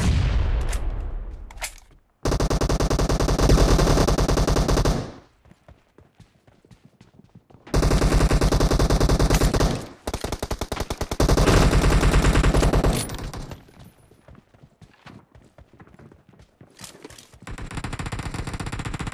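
Video game gunfire from an M24 bolt-action sniper rifle and an M416 assault rifle, loud close bursts of rapid automatic fire alternating with single shots and short gaps.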